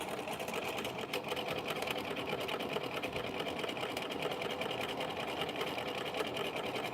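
A sewing machine with a specialized presser foot stitches a pin tuck, a steady, fairly faint mechanical whir running without a break.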